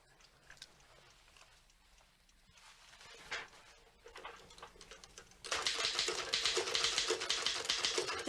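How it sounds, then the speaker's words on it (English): Typewriter keys clatter in a fast run of taps, faint and sparse at first, then growing louder and denser as typing picks up in an office setting, with no one talking. "This is me typing, Mr. Rigby."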